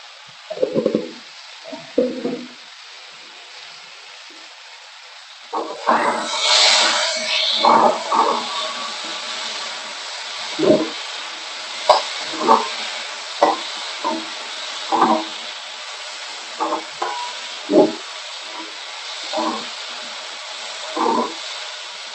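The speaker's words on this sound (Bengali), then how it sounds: "আমার প্রায় কষানো হয়ে এসেছে" Potatoes sauté in oil in a pan for a mourola fish jhal, with a steady sizzle under repeated scraping and clinking stirs that come at irregular intervals.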